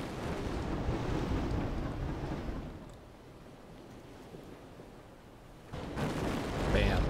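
A torpedo strike explosion in the WW2 naval combat game Victory At Sea: a broad, rumbling roar that fades to a low wash, then swells again into a second heavy boom.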